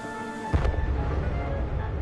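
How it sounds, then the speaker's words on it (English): An emergency detonator cap explodes under a train in a gorge: one sharp, loud bang, then a rumbling echo over a low running hum. "The bang echoed round the gorge."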